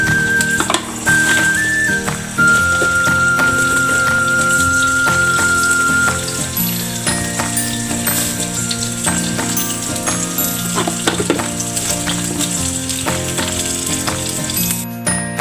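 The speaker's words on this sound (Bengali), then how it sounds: "কাঁচামরিচ, পেঁয়াজ আর এখানে শুকনো মরিচ দিয়ে ভেজে নিব।" Onion frying in a pan with green chilies and dried red chilies makes a continuous close sizzle, mixed with clinks and ringing tonal sounds throughout, and no voices.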